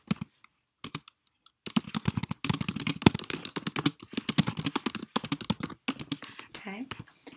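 Keys clacking on a computer keyboard as an answer is typed into a classroom presentation, a rapid, irregular run of close clicks that fills most of the clip after a few scattered taps.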